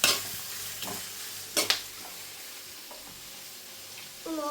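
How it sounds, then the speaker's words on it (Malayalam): Clam meat sautés in a hot pan, sizzling steadily up close while a spoon scrapes and stirs in a few distinct strokes, with no talk over it. "ആ അപ്പൊ എല്ലാം കൂടെ നമുക്ക് വാഴണം. വഴറ്റിയെടുക്കണം അല്ലേ?"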